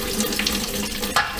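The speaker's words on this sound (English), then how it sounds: "that's just the water from the sink" Tap water runs steadily from a bathroom sink faucet, a continuous close hiss and splash with a brief louder gush near the end.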